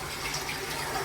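Water sprays steadily from the bidet nozzle of a high-tech Toto Japanese toilet in a restroom, a soft, even hiss with no break, heard on its own and close by.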